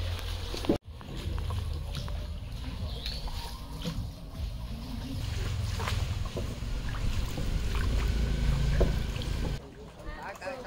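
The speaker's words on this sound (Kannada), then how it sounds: "ಒಂದು ಬೀದಿಯಿಂದ ಮತ್ತೊಂದು ಬೀದಿಗೆ ಹೋಗಬೇಕಂದ್ರೆ ನಾಡ ದೋಣಿಗಳಲ್ಲಿ ಓಡಾಡ್ಕೊಂಡಿದ್ದಾರೆ" A country boat moves along a canal between houses in a Vietnamese village, with a low, continuous water and hull rumble that stays fairly steady. People talk close by over it.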